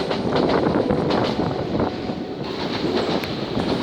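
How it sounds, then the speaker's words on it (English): A steady low rumble of a 1938 London tube train drawing nearer, broad and continuous with some wind buffeting the microphone, no voices. "Sounds like a train coming now."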